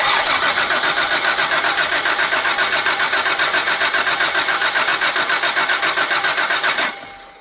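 A 1985 Jaguar XJ6 engine cranks steadily on the starter without catching, a fast even rhythmic churn that runs loud and close for about seven seconds, then stops abruptly.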